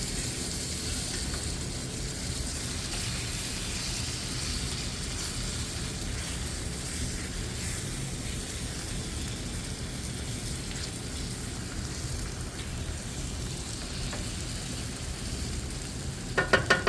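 Chopped tomatoes fry with spices and salt in a pan of rice pilaf, giving a steady, close, unbroken sizzle and crackle with a few light clatters near the end.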